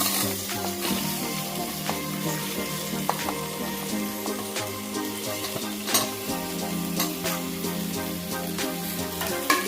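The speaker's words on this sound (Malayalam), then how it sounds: "മസാല മൂത്ത് വന്നിട്ട് ഇതിലേക്ക് നമുക്ക് ഇതിലേക്ക് നമുക്ക് അരിഞ്ഞു വെച്ചിരിക്കുന്ന കിഴങ്ങ് സബോള വെച്ച് കൊടുക്കാം" Chopped potato and onion frying in a masala, loud continuous sizzling with the clink and scrape of a stirring spoon against the pan, close up and without talk.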